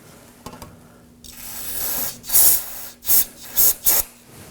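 Brake parts cleaner sprays in several short hissing bursts into inner tie rod threads on an Acura MDX, preceded by a longer spray and a few faint clicks of the can, close and without talk.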